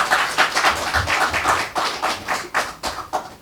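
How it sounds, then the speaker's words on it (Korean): Church congregation clapping in unison to welcome a pastor to the pulpit for a sermon, a fairly loud, steady run of rhythmic hand claps close by with no talk over it. "박수로 환영하겠습니다"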